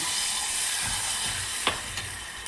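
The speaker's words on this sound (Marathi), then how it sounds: "मी इथे टाकत आहे पाणी" Loud, steady sizzling as water is poured into hot oil spiced with turmeric and chili powder, with a constant hiss and a couple of small sharp pops.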